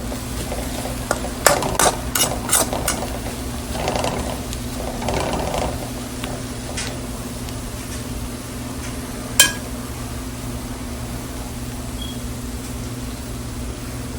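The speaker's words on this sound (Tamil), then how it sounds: "இங்கே வெங்காயம் நல்லா வதங்க ஆரம்பிச்சிருச்சு." Onions sauté in an oil-slicked pan while cooking ghee mutton chukka, a steady soft sizzle under a spoon's scraping and clacking strokes, busiest early on, with one sharp knock near the end.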